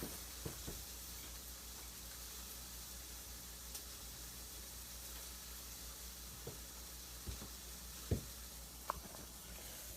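Sausage frying in a pan, giving a steady close hiss of sizzling with a few small pops and crackles throughout.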